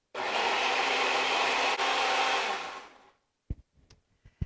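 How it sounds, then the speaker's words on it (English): A Vitamix blender whirs loudly and steadily for about three seconds while blending cashew cream with soy milk, then winds down and stops, followed by a few sharp clunks and taps. "I'm going to use this blender just because it's out."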